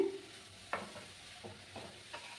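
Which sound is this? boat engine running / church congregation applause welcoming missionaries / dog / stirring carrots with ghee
stirring carrots with ghee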